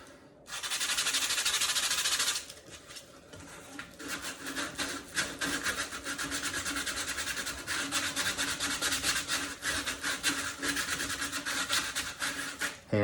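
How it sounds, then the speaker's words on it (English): Foam core shoe form sanded by hand: a steady, gritty rasp starts with a long unbroken stroke, then continues in quick, uneven back-and-forth scrubbing strokes, close and fairly loud, with no talking. "Hand sanding stinks, but to be honest, this is probably the best way to do it."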